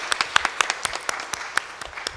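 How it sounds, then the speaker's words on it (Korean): A small church congregation claps to welcome new members during a Sunday morning service, a sparse run of distinct, uneven hand claps, fairly near and moderately loud. "우리 같이 한번 박수 한번 환영하겠습니다."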